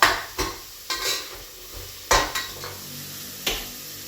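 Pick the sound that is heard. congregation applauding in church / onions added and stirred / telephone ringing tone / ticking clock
onions added and stirred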